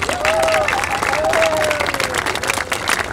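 An audience applauds a speaker with dense, steady clapping that stays loud throughout, joined by a few sharp whistles partway through.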